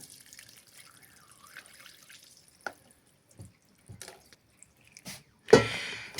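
Spiced brine being strained into a jar of sauerkraut, heard as soft scattered drips and small splashes with a louder pouring gush near the end, close and otherwise quiet.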